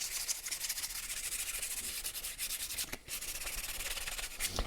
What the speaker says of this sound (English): So I can take a piece of sandpaper, wrap it around that, and sand right inside it to get a perfect smooth edge.